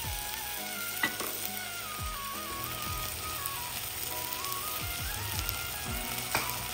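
Tomatoes fry in a pan for a mixed vegetable gravy, a constant close sizzle with repeated stirring scrapes, and a faint tonal hum in the background.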